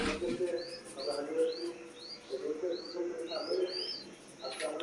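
Pet pigeons kept behind a window grille coo softly in low rolling murmurs, joined by repeated short chirps, close but quiet.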